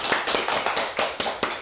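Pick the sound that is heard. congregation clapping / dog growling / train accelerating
congregation clapping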